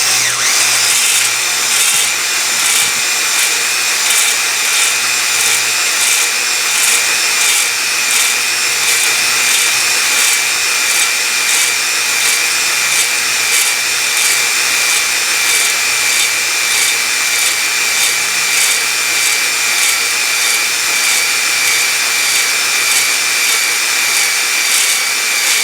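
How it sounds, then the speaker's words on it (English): A drill-driven ball hone works the cylinders of a 4.8 LS engine during a rebuild, producing a loud, constant high whine with a rapid pulsing chatter that runs unbroken throughout. "I'm honing the cylinders"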